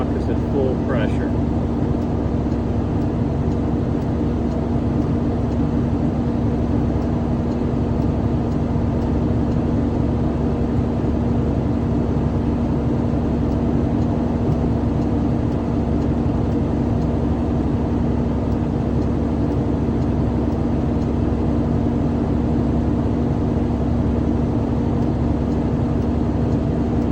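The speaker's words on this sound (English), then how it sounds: "Waiting for the air governor to shut off to tell us the truck is at full pressure." A waste-service garbage truck idles with a steady low diesel drone while its air compressor runs to build brake pressure. The sound is continuous and unchanging throughout, close and fairly loud.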